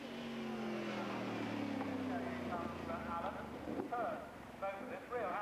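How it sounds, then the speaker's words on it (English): A Ford Boss Mustang race car runs on the Crystal Palace circuit, its engine a low droning rumble that shifts pitch as it passes, heard from a distance beneath a commentator talking. "A Boss Mustang, a nice sounding machine too."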